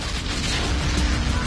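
A grenade explosion from a film rumbles as a loud, sustained boom with dense low-end roar and noisy crackle throughout, with no voices over it.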